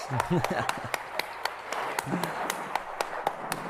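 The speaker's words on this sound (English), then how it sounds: "let's give Bart a big hand of applause" Scattered clapping from a small audience at a livestreamed talk, with individual claps standing out sharply against a low murmur of voices.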